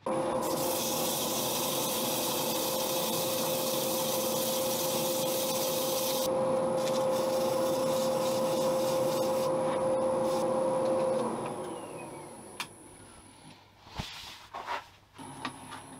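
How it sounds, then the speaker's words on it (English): Steady abrasive whirring of a spinning wood-turned capsule box being sanded on a lathe, loud and continuous, with a faint high whine, then tapering off into quieter scraping and knocks. "Sanding. Sanding, sanding,"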